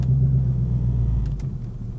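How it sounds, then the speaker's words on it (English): Manual car engine labouring in second gear on a slight incline with no throttle, a low steady rumble and hum that sags slightly toward the end, close and fairly quiet. "The car's struggling a little bit because we are in a slight incline."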